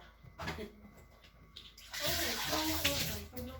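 Tap water runs into a sink after toothbrushing, a steady broadband rush that starts softly, then swells louder and fuller halfway through. A voice speaks briefly at the start.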